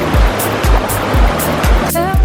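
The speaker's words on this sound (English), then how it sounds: "We have arrived at the waterfall." A waterfall about 135 feet tall roars in a loud, continuous, dense rush of falling water, with dull rhythmic thumps beneath and a brief voice near the end.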